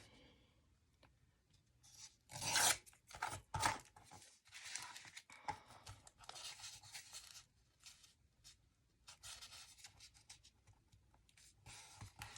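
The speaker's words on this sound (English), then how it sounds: "I'm just using my ruler to slice the paper." A blade slices through paper along a ruler in a quiet crafting setting, making a few sharp scraping strokes and then softer rustling and tapping as the sheet is handled.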